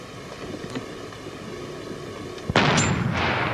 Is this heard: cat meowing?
no